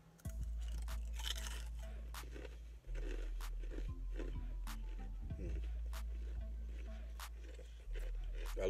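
Someone chews battered, deep-fried shrimp from a fast-food seafood meal, close to the mic, with repeated crisp crunches and bites over a low steady hum, no talking.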